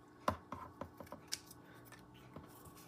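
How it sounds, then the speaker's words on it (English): Scissors snip strips of craft material down to size for a figure of a stinging insect, a handful of crisp separate cuts at uneven intervals, close and fairly quiet with no talking. "I'm going to take the strips I cut and I'm going to cut them to the right size"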